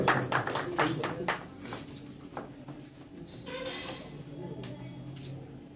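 A brief burst of scattered hand claps from a small audience at a poetry festival in Raebareli fades quickly into quiet room murmur and voices.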